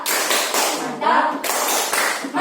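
A class clapping a rhythmic chant in short repeated bursts of hand claps, close and loud, with children's voices chanting over the beats.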